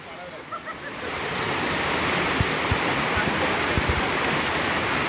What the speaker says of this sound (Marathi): इथे छोटासा एक धबधबा होता, वाहतं पाणी